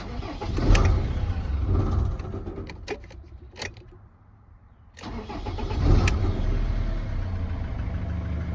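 A Ford Transit MK7 2.4 diesel van engine cranks and runs after an EGR valve replacement, then cuts out briefly to near silence before firing up again and settling into a steady idle close by.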